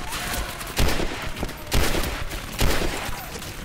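Rifle fire rings out in the video game Turning Point: Fall of Liberty. Three heavy, evenly spaced shots about a second apart cut through a dense, noisy street-battle backdrop.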